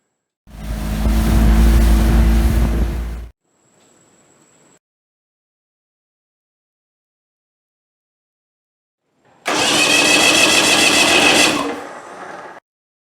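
A 1989 Mercury 135hp V6 Black Max outboard motor cranks over during a compression check in two long bursts, a steady churning whir of about three seconds each, separated by a quiet gap with a faint hum.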